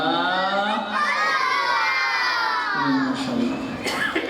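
A large crowd of children at a school annual day shouts the takbir together in loud, sustained unison, their voices swelling and overlapping as one chanting mass.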